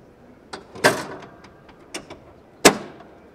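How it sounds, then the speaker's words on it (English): Cab door of a 2018 Isuzu FTR Class 6 cabover truck being closed, with a few light clicks and rattles followed by a firm latching thunk. "From here, I'm going to close the cab"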